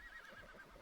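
A horse in Ark: Survival Evolved gives a short, quiet whinny, heard alone.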